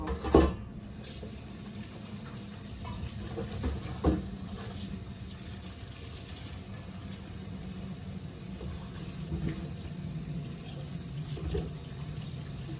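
Tomatillos and chiles are washed under a running kitchen tap, with a steady wash of water over the produce and a few brief splashes and knocks, and no talking.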